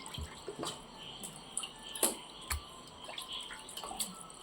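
Water drips and splatters in small irregular bursts as washed chicken pieces are squeezed by hand, close and quiet, with a few sharper drops scattered through.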